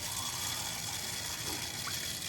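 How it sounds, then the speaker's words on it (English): Cold water runs from a sink tap into a cooking pot holding ginger and onion, a steady continuous gushing hiss throughout, fairly faint and even with no voices over it. "I'm gonna fill it with water. Just gonna use cold water."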